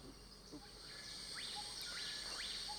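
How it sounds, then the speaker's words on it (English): An Asian barred owlet calls from a tree with a few short rising notes over a steady, shrill bed of insects and other birds, faint and somewhat distant. "this is an Asian barred owlet"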